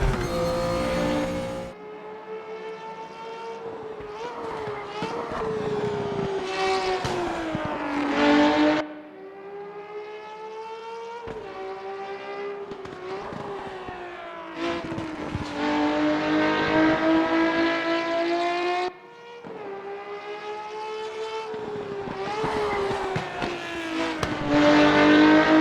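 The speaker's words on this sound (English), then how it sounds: "when you come off the throttle, the car's making all sorts of noises at you" Race car engine in RaceRoom Racing Experience, revving hard through repeated gear changes with sharp drops and climbs in pitch, loud and continuous, with crackles off the throttle.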